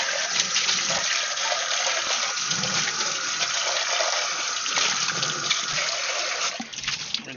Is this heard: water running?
yes